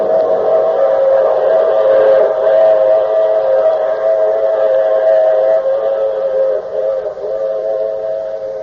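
A train whistle sounds as a radio drama effect, a steady, loud tonal blast held for several seconds over the rumble of a passing train, alone with no voices.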